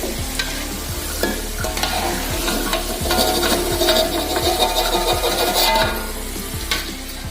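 Food frying in hot oil until golden brown, ahead of frying perkedel, with a steady close sizzle and repeated scraping, stirring strokes of a utensil against the pan throughout.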